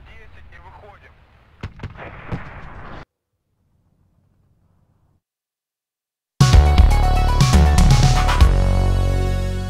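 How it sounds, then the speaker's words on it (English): Incoming artillery in the war strategy game WARNO crashes in as a sudden run of loud, close booms and blasts after a silent gap, with quieter game sounds and sharp pops before it. "you guys are seeing artillery coming in here"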